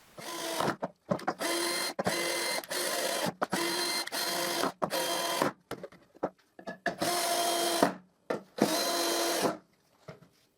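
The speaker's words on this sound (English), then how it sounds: "And I screw the strip." Close-up cordless drill driving screws through a wooden strip on a homemade drill support: a run of short whirring bursts and quick stop-start pulses, then two longer spins near the end.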